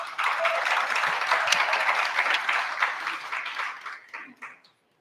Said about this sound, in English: Let's kindly welcome her and give her a round of applause.